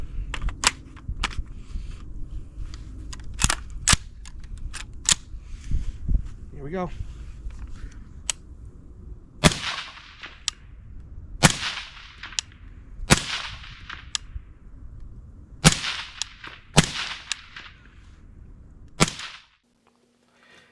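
A 5.56 rifle fitted with an AAC Ranger 5 suppressor fires about a dozen sharp, cracking shots outdoors, spaced irregularly, with brief talk between some shots.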